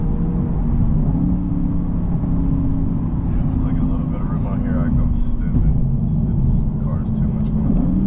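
A 2023 Lexus IS 500 F Sport accelerates hard from inside the cabin, a loud, steady engine drone with rising harmonics holding through the whole stretch, with brief voices faintly above it near the end.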